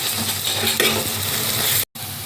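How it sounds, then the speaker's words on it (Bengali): Masoor dal fritters crackle and sizzle steadily in hot oil in a village kitchen pan, with a few soft scrapes and clinks as each one is flipped, broken by a brief silent gap near the end. "বড়াগুলোকে আমি এভাবে একটা একটা করে উল্টে দেবো আর বড়াগুলো কিন্তু খুব সুন্দরভাবে ফিরে যাচ্ছে"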